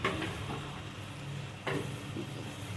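Soaked raw chickpeas with turmeric powder stirred in a hot cooking pan: a steady close sizzle with a spatula scraping and knocking against the pan, sharpest near the start and midway.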